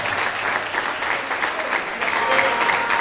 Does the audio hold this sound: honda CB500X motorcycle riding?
no